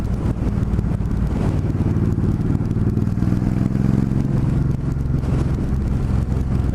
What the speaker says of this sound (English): it's got a lot more rumble now, the bike